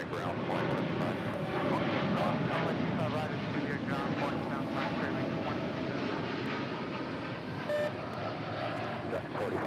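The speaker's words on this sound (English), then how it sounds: "This is United Airlines 1897 departing to Chicago O'Hare on a 787-10 Dreamliner" A United Airlines Boeing 787-10 Dreamliner departs Los Angeles International Airport bound for Chicago O'Hare, its jet engines giving a loud, steady broadband roar that holds throughout under faint radio chatter.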